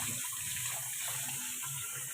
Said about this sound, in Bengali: ডাঁটা দিয়ে একটুখানি এটা ধুয়ে নিই